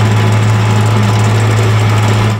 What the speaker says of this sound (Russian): Миниатюрная фреза вгрызается в асфальт по улице Фадеева